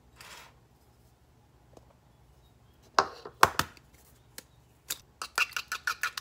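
An egg is cracked for cornbread batter: a quiet start, then a few sharp cracking knocks, followed by a quick series of light taps near the end.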